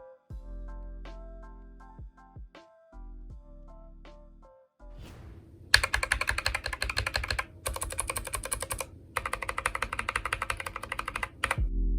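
Typing on a Gamakay MK61 mechanical keyboard with optical switches: a few sparse, separate keystrokes at first, then fast continuous clacking runs with short pauses, close and clear.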